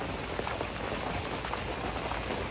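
Steady rain falling outdoors, a dense and even hiss of drops pattering on surfaces at moderate volume, continuous throughout with no talking.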